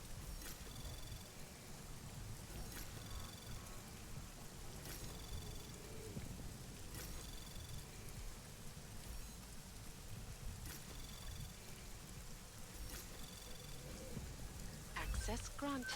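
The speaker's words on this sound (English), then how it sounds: "I really enjoy the sound of rain, so I'm kind of liking the aesthetic of this, this region right now" Steady rain ambience in the video game Deus Ex: Mankind Divided, a constant hiss of falling rain across the whole stretch with a low rumbling bed and a brief sharper burst near the end.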